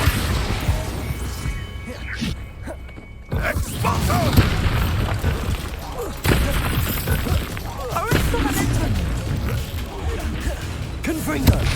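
Confringo and Bombarda spell blasts during the Harlow boss fight in Hogwarts Legacy, several sharp booming impacts and crashes at irregular intervals over a steady battle rumble, with voices talking in between.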